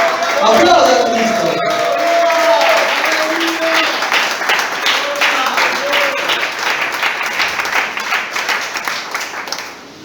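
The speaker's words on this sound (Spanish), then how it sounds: "Aplauda a Cristo." A church congregation claps and cheers during a Spanish-language sermon, dense applause that is loud at first, mixed with shouting voices, then thins into scattered rhythmic claps before fading out.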